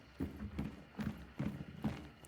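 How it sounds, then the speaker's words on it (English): Footsteps in a video game, five or six evenly spaced heavy thuds with a hollow, clopping quality, moderately close and otherwise alone against quiet background. "Right, I hear footsteps there"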